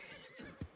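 A horse in the video game Red Dead Redemption gives a short, faint neigh with a snort, brief and soft, with no talk over it.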